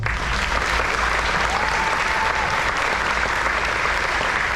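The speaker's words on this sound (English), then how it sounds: "Please give a round of applause" Sustained applause from an audience at a high school Navy JROTC change of command ceremony, a broad even wash of clapping with a low rumble beneath, steady throughout.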